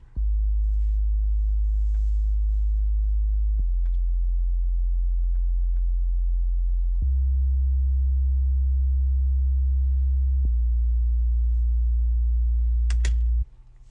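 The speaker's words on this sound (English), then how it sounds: "this patch really adds a lot of the warmth to the synth" An uplifting trance synth patch adds warmth, heard as sustained low tones that step between pitches in long held blocks, loud and alone, with a brief bright blip near the end.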